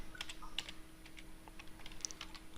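Rapid, irregular clicks of someone typing code on a computer keyboard, light keystrokes close by, fairly quiet with no talking.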